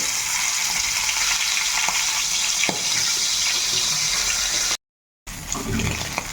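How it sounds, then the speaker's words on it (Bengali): Amudi fish frying in hot mustard oil, giving a steady, fairly loud hiss and crackle throughout, broken by a brief gap of silence near the end before the sizzle resumes. "এখন এই আমুদি মাছগুলো কিন্তু এইভাবে ভেজে নেব।"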